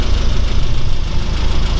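A classic Mini van engine idles steadily through a twin silencer exhaust, a loud, close, continuous low rumble with no voices over it.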